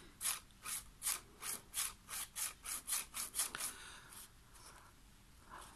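A thin paper strip is drawn sideways through a notch in a handmade greeting card, swinging a paper pivot: a run of about a dozen quick, evenly spaced scratchy rasps, close and fairly soft, easing into a fainter rubbing slide.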